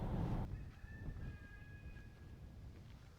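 A rooster crows at a distance, a thin drawn-out call rising over low background rumble after a brief loud noise at the start.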